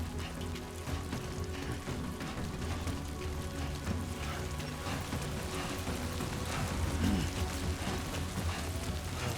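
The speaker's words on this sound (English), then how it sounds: "This fucking rain's coming down." Rain pouring down in the video game Death Stranding 2, a dense continuous patter of drops hitting surfaces with a low background hum, fairly quiet and steady throughout with no voices.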